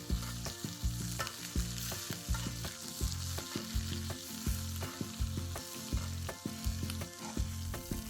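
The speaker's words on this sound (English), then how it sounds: "Tilt pan and using a spoon, start to baste your steak with the infused butter." Venison steak sizzles steadily in a pan while a spoon bastes it with infused butter, loud continuous frying with regular scraping, clinking spoon strokes.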